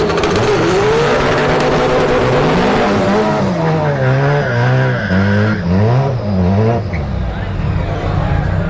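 Turbocharged drag race cars, a Civic hatchback against an Integra, at a no-prep drag strip event at Orlando Speed World; loud sustained engine roar with rising and falling whining pitch and tire squeal, with crowd noise and talk underneath.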